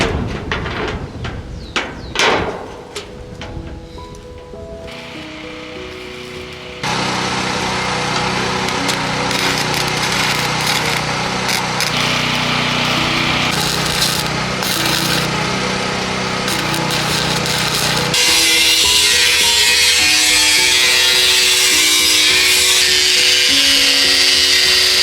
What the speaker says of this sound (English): I just need to cut a 30 degrees angle in one of the corners so it can meet the other one in the top